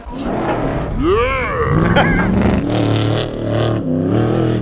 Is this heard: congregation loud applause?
no